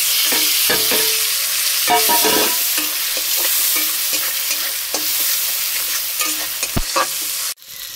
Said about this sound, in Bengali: মশলাগুলো ভালোভাবে কষে নেব